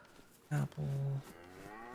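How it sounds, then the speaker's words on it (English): A cow in DayZ's Chernarus countryside gives two moos, a short low call followed by a longer drawn-out one, fairly clear over quiet ambient background with no talking. "I wish I could see where that cow is."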